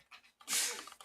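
A single sharp sneeze bursts out close by after a couple of short breaths, loud and hissy, then fades quickly.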